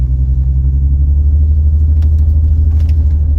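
Steady, loud low rumble of cars passing on a quiet mountain road on a sunny day, heard close with a continuous engine drone and faint higher rattles near the end.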